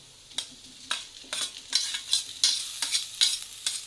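Boiled potato pieces, cut into medium chunks, sautéed in a pan for a fasting thali, with about seven or eight distinct stirring scrapes over a soft sizzle, close and moderately loud, with no talking.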